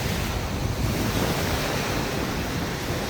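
Choppy sea waves at the beach in Tsilivi, Zante, roar as a dense, steady wash of surf, loud and close, with wind buffeting the microphone.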